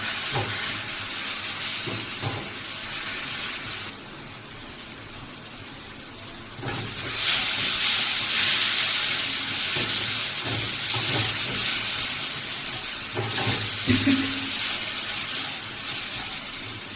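Spice paste with chili and turmeric powder being fried for a fish roe curry, a steady broadband sizzle and hiss that swells louder partway through, with scraping stirs, and no talk.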